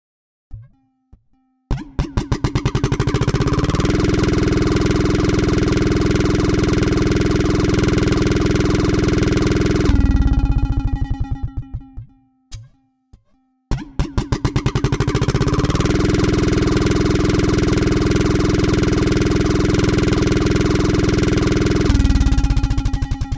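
Simulated engine from an engine sound simulator built on a simple one-dimensional model with turbulence, running loud and steady for stretches, cutting off twice with a brief restart burst between runs.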